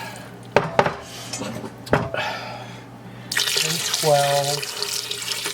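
Water runs from a tap into a metal stock pot for chicken stock, a steady rushing pour after clanks of the pot, with a brief spoken phrase near the start.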